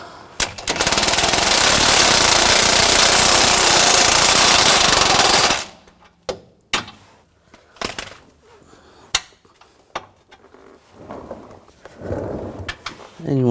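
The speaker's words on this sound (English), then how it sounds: "And I'll tighten this bolt down." Long, loud burst of a power impact tool driving down a bolt on the rear wheel hub of a 2007-2013 BMW X5 during a wheel bearing replacement, followed by scattered metallic clanks and knocks of tools.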